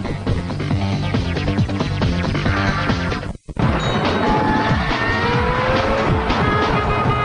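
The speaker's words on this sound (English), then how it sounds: "The only thing louder than the traffic on Interstate 275 east of Detroit are the groans of neighbors." Heavy highway traffic roars on Interstate 275 east of Detroit, a dense continuous wash of tire and engine noise with vehicles whooshing past, briefly cut out midway before resuming loud.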